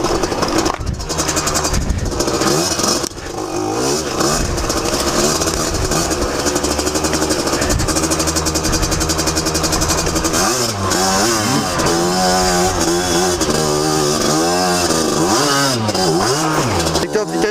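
A motorcycle engine being run in during break-in revs continuously, loud and close, pushed higher through the rev range with rising and falling pitch sweeps over seventeen seconds.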